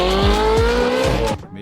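A car launches hard off the line in a drag-style race start, a loud near engine rising in pitch through quick gear pulses before cutting off abruptly, with some tire noise.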